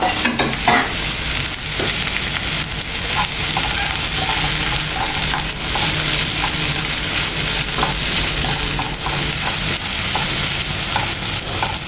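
Mint, coriander and curry leaves sautéed in a pan for a Puducherry roadside-style vegetable salna, loud continuous sizzling with rhythmic spatula scrapes and stirring knocks close up.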